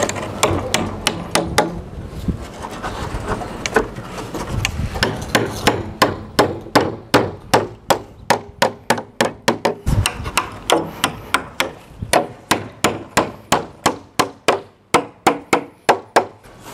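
Hammer blows drive clamps into wooden formwork for a concrete bond beam on a house under construction, starting as scraping and knocking, then becoming a long run of sharp, evenly spaced, close, loud strikes.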